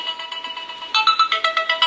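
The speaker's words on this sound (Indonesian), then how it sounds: "Sebentar ya, ada telepon ya." A telephone ringtone plays alone, a quick repeating electronic melody of bright pulsing notes that grows louder partway through, with no talking over it.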